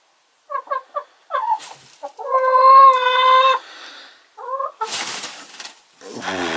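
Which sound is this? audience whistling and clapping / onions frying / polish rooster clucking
polish rooster clucking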